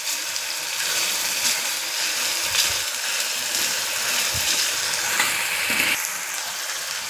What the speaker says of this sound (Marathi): कांदा थोडासा आपला लालसर होईपर्यंत आपण तेलात परतवणार आहे